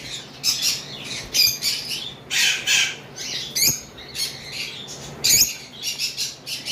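Forpus parrotlets, including sea green and orange-head birds kept in pairs, squawk and chirp in repeated harsh bursts at close range over a steady background hum.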